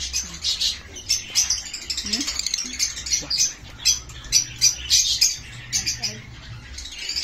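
Caged opaline breeder birds, likely lovebirds or parakeets, chirping busily, with many quick overlapping tweets close by and a low background hum.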